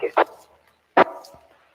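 Two sharp dog barks about a second apart, fairly close and loud, with a faint tail of room noise between them and no talk over them.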